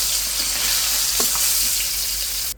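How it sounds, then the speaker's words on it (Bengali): Koi fish frying in hot oil in a home kitchen pan, giving a steady, fairly loud hiss with faint crackles and a small clink near the middle, then cutting off abruptly at the end. "সম্পূর্ণ মাছ খুব সুন্দর করে উল্টে দিয়েছি। মাছটা ভাজা হয়ে গেছে"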